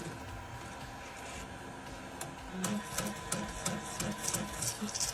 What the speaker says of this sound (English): Dirty DTF printer.